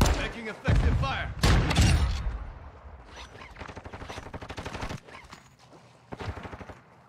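Bursts of video game gunfire crackle in rapid volleys, loud at first and then thinning into quicker, lighter rattles, with a later burst near the end.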